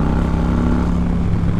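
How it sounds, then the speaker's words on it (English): A Street Glide motorcycle with a Vance & Hines exhaust rumbles close by with a deep, throaty, steady idle, loud and unbroken. "Got the Vance & Hines exhaust on it. Sounds really good."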